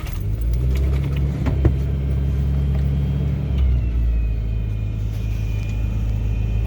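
A Geo Tracker's engine starting cold and settling into a steady low idle rumble, heard up close with light clinks of keys and no talking.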